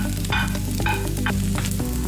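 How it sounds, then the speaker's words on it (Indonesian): Shredded cabbage fries loudly in a pan with egg, celery and carrot for a vegetarian home-style dish, a steady close sizzle broken by scraping stirs of the spatula, with no voices. "Kemudian tambahkan sayur putih ke panci penggorengan yang telah berisi telur,"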